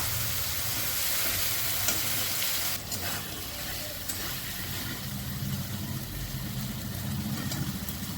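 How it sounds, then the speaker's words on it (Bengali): Pointed gourd (potol) fries with sour yogurt in a pan, making a steady broadband sizzle that runs for several seconds, with stirring and faint scraping at close range and no speech. "এবার আমি পটলগুলো দেবো।"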